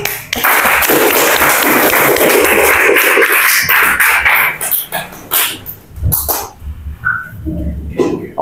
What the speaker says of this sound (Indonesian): tepuk tangan untuk Mas Haikal